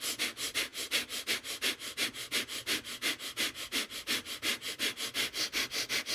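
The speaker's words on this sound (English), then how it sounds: "I start to pump my belly as I breathe in and out through my nose" Forceful, rhythmic breaths in and out through the nose, pumped from the belly in a fast, even series of about thirty sharp pulses, close and loud with no talking.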